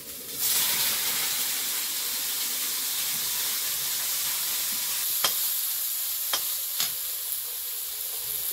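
Eggplant drops into hot oil in a wok with a sudden loud hiss that settles into a steady sizzle, later punctuated by a few sharp clicks of a utensil against the pan.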